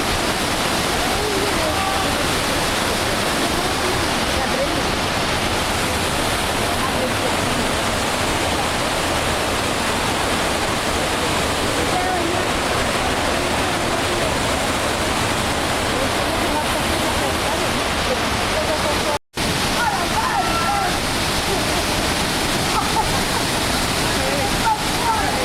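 A waterfall roars as a constant, dense broadband wash of falling water, steady and fairly loud, cut by one brief dropout near the end.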